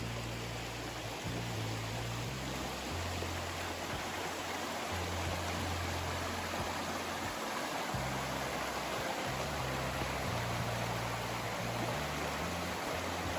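Wolf Creek flowing over its bed on the Allen Walker property in Wolf Creek, Tennessee, a steady, unbroken rush of water heard close and continuously, with a low rumble underneath and no voices.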